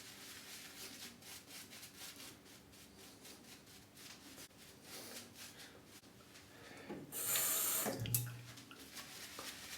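Water runs steadily from a tap with soft rubbing and handling noises while working shaving cream with a brush, swelling louder for a couple of seconds near the end before easing off.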